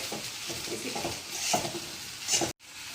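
Food tossed in a hot pan for a sizzler dish, a series of close sizzling swishes and scraping bursts ending in an abrupt cut.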